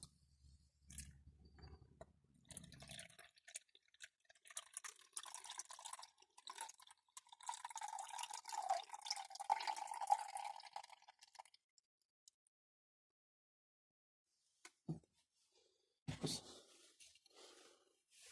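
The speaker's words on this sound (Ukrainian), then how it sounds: "І тепер потрібно цю воду злити." Water is poured off strawberry seeds, splashing and trickling steadily for several seconds, then stops; a few brief drips and clatters follow after a pause. Fairly quiet and close.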